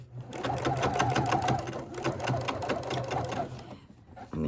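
A sewing machine runs steadily while stitching pleats into a fabric face mask, its rapid mechanical chatter close and continuous for several seconds before easing off near the end.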